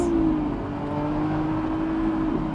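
A 2024 Lamborghini Revuelto pulls hard in first gear, its engine a loud, steady, high-pitched wail that climbs gradually with no break, close by and without any talking.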